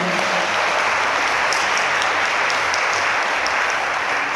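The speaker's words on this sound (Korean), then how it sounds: "박수 부탁드립니다" Guests applaud at a wedding ceremony in a wedding hall in Gwangju, with sustained, dense clapping that holds loud and steady throughout.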